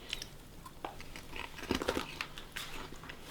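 Someone bites into and chews a crunchy cheese-flavored snack from Taiwan, with irregular crisp crunches close to the mic over a quiet background.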